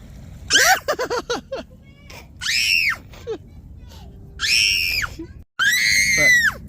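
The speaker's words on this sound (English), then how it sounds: "Why are you screaming?" A child screams repeatedly in fear at the beach, with loud, high, drawn-out shrieks coming in several bursts and brief gaps between them, heard close up over steady outdoor background noise.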